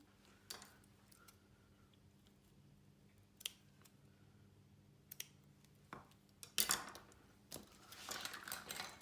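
A ribbon bow on a hand sanitiser gift box is trimmed with scissors, giving a few quiet, sparse snips and clicks over a near-silent background, with a louder rustle and snip cluster toward the end.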